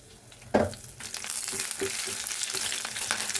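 A sharp burst of crackling as cumin, garlic, dried red chillies and curry leaves hit hot oil, then a steady sizzle with small pops and stirring sounds.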